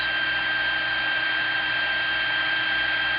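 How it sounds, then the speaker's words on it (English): A heat gun blows steadily and continuously as it melts embossing powder on an artist trading card, a loud, even hiss with no talking. "You want to keep the gun high enough away while you're embossing until it starts to melt"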